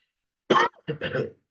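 A couple of rough, throaty coughs close up, a short burst followed by a longer double hack after a brief pause.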